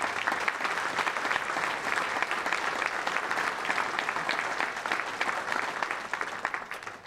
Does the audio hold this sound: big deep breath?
no